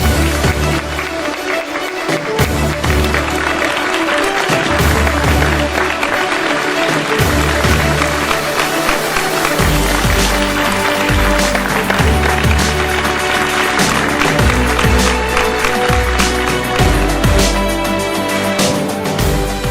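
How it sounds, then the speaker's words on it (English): Round of applause at the IHFS 2024 event after a shawl and certificate presentation to Dr. V.P. Nair, sustained and loud, with music and crowd noise running underneath throughout. "Everyone, please give them a round of applause."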